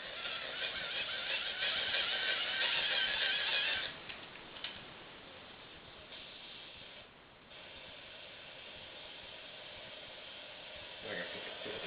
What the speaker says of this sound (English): May have to crank it up a bit more.